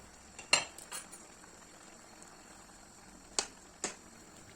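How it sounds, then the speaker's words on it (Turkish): Two or three sharp clinks of metal against metal, a lid set down on a pot of tomato sauce, with a quiet kitchen background between them. "Üzerini kapakla kapatıp kaynamaya bırakıyorum."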